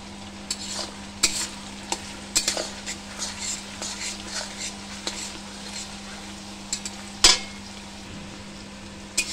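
Onions about half cooked, some 400 to 500 grams, stir-fried in a pan as capsicum goes in: a steady low sizzle broken by repeated scraping and clinking strokes of a spatula against the pan, fairly close and quiet.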